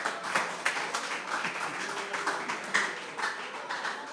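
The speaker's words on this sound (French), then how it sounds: "c'est l'applaudissement du public par rapport à l'intervention de notre camarade" Audience applause following a speech at a civic education forum in Haiti: dense, steady clapping from a crowd for about four seconds, with scattered sharper claps standing out.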